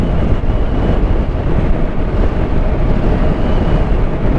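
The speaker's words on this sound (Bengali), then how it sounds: "উপরে হাওয়া মেরেই যাচ্ছে এক নাগারে।" Strong wind blows without letup high on a Spiti mountain road, roaring loud and close as constant buffeting rumble against the microphone.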